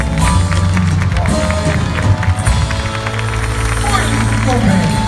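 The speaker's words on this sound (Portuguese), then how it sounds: "aplaudir agora a presença de Jesus." Loud, sustained applause from a studio audience at a Catholic television program, with a dense wash of clapping and crowd noise under a musical backdrop.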